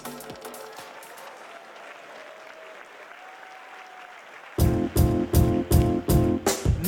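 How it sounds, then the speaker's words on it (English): After a quiet stretch, an audience at a university event breaks into loud applause, with strong rhythmic clapping swelling near the end. "Can we have another round of applause for Mavis Aqua and the dancers of"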